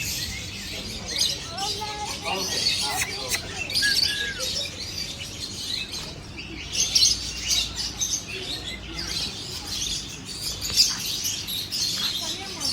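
Many small birds chirp and tweet continuously inside a bird park aviary at Yelagiri, a dense bright chorus of overlapping calls with faint talk in the background.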